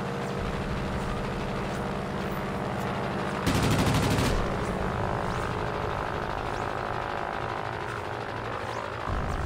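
A British tier 2 warplane in World of Warplanes fires a short, loud burst of rapid machine gun fire. A steady engine drone runs beneath it, and no one speaks.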